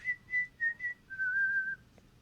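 A person whistles a short stadium strikeout tune for the Yankees: four quick clipped notes followed by one long sustained note, clear and close against quiet background murmur.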